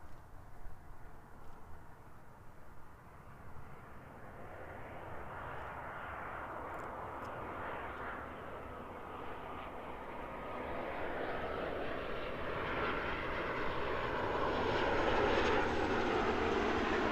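A Boeing 737 arriving at Christchurch Airport, its engine roar heard from a distance, steady and then swelling louder as the airliner approaches.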